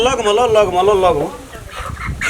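A chicken clucks in a run of wavering, rising and falling calls that give way to scattered softer sounds, close and fairly loud, with a little talk nearby during a Holi comedy scene.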